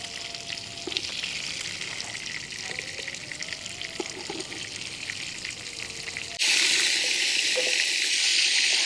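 Chicken pieces for butter chicken frying in a pan, a continuous close sizzle and crackle that swells suddenly louder and brighter near the end.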